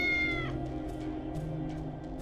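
A cat meows in the retro pixel-art cyberpunk noir adventure game Tales of the Neon Sea, one clear drawn-out call up front over a steady game music bed, followed by softer murmuring cat sounds.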